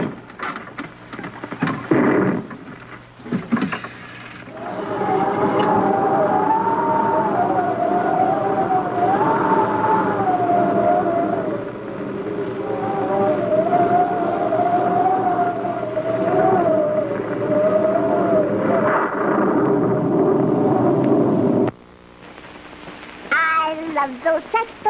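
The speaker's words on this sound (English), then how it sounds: "Okay, Hap, wind it up. Fire rockets. Let's get back to Terra." Spaceship rockets firing as a 1950 radio drama sound effect: a loud, sustained wavering electronic whine over a dense roar that swells and dips for about seventeen seconds before cutting off abruptly.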